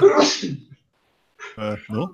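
A single loud, abrupt sneeze, followed after a pause by a person speaking briefly.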